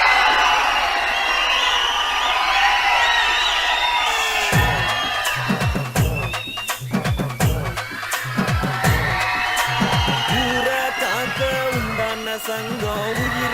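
A Tamil stage event crowd erupts into loud cheering, whistles and clapping as actor Sivakarthikeyan is welcomed on stage, with a dense burst of rhythmic claps and shouts following an announcer's voice.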